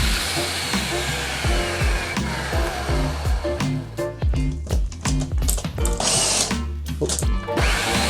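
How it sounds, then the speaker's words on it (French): A food processor grinds a cheesecake crust mixture for a tofu-based vegan cheesecake, making a steady loud motor whir with rattling, crunching grains that knock against the bowl, heard close and continuous. "On va mettre ça sur le robot. On va l'écraser pendant environ 1 minute, peut-être 2."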